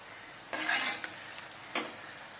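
Boondi batter drops through a perforated ladle into hot oil, giving soft bursts of sizzling and stirring, one longer hiss followed by a couple of brief crackles, fairly close with no talk.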